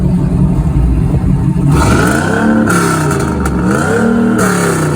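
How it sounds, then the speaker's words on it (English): A 1993 Trans Am with a cat delete and catback exhaust revs hard, its loud, raspy engine note rising and falling in repeated swells close by, with no voices. "93 Trans Am with a cat delete and a catback exhaust system. First clip is revving"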